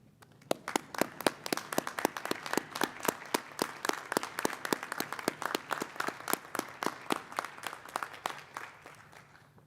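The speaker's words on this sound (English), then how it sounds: "please stand and join me in a round of applause" A crowd applauds steadily at a graduation ceremony, dense clapping sustained throughout, loud and close with no talking.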